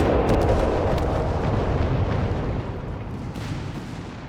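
Mines detonate on a Company of Heroes 3 battlefield amid artillery, heavy booming blasts and crackling debris rolling together loudly before easing off slightly toward the end.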